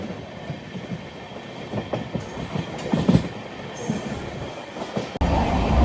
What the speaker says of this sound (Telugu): WAP 7 లోకోమోటివ్ LHB రేక్తో పుల్ అవుతుంది కదా